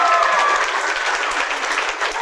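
A theatre audience claps loudly and steadily the whole way through a children's production, a dense wash of applause that never lets up.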